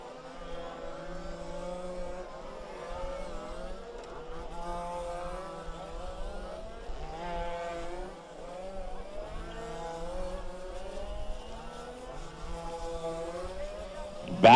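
Fifth-scale 4WD RC race cars at a Toys for Tots spec race, high-pitched engines whining and rising and falling in pitch as they accelerate, under steady commentary and crowd murmur.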